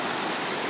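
Floodwater rushes steadily behind a house during heavy rain, a dense continuous broadband wash like a stream, loud and close with no voices.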